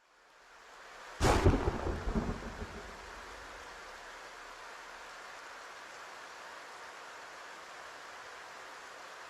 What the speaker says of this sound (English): The boss just got zapped by lightning.